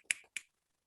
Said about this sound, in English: Let's give them a little golf clap.